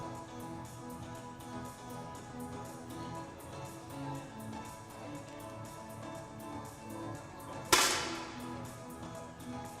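A single sharp crack of a 10m air rifle shot at a para shooting world championship, standing SH1 event, rising briefly above a quiet, murmuring hall ambience.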